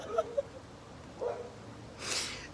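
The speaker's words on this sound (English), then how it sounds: "And the dog next door agrees." A dog next door gives a few short, faint barks, two quick yips and then another, heard from a distance in a quiet indoor room, followed by a brief rustle.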